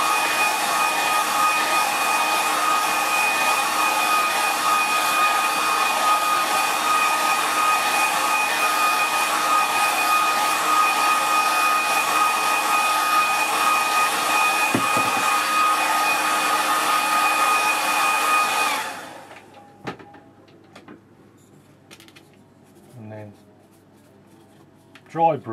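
A hair dryer blows on a watercolour painting of Buttermere, a loud, steady whirring hum lasting about nineteen seconds before cutting off, followed by quiet brush and paper handling.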